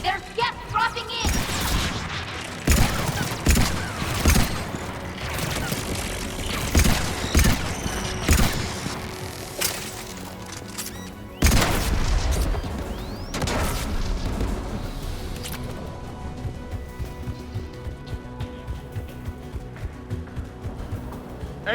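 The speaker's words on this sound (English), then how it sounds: "AA guns ahead." Anti-aircraft guns in Mass Effect 3 pound out loud, sharp bursts with booming impacts and metallic clatter, easing into a steady rhythmic thumping near the end.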